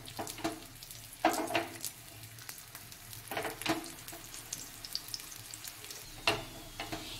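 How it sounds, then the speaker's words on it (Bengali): A paratha fries in oil on a tawa with a soft, steady sizzle and a few louder crackling bursts spread across several seconds, and no voices. "এবার আমি এতে পরোটাটা দিয়ে দিলাম আর এটাকে আমি ভেজে নেব"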